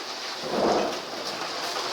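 Summer thunderstorm with steady rain and rumbling thunder, heard from indoors near an open window; a broad, constant wash of rain with a low swell of thunder near the middle.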